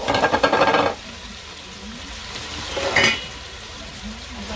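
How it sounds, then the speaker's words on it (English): Saltfish frying in a pan with tomato, a loud crackling sizzle at the start that fades to a quieter steady fry, then a second brief burst of sizzling and stirring. "I'm gonna fry it for a little while."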